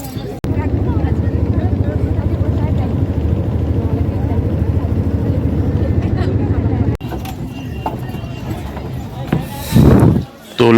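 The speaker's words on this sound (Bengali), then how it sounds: "তো আমরা এবার লঞ্চটায় উঠে যাই।" Motor launch ferry crossing the river to Mayapur, its engine a steady low drone throughout with talk over it, briefly dropping at one point before a louder gusty burst near the end.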